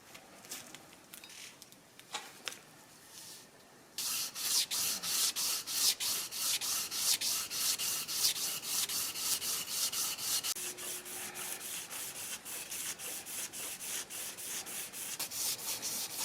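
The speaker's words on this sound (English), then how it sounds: "Just a few minutes using 400 grit made a big difference on this crank." A 400 grit abrasive strap is worked back and forth over a lubricated crankshaft from a Datsun 520 engine, a close rhythmic rasping that starts after quieter handling sounds and repeats in quick, even strokes.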